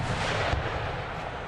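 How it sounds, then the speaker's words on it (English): Artillery in the video game Napoleon Total War, a dense, continuous roar of distant cannon fire with one duller boom standing out, steady and without talk. "And now the artillery knows where that cavalry is"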